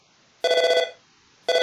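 A phone rings in the video game Undertale: one bright, buzzy electronic ring burst lasting about half a second, a short silence, then a second ring starting at the end, loud and close.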